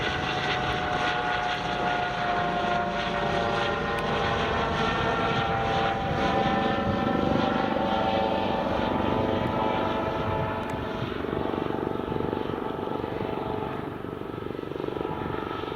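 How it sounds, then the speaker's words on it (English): A police helicopter flies in near an airport, its rotor and engine making a steady, loud, continuous drone that holds for the whole stretch without voices. "that's a police helicopter just coming in,"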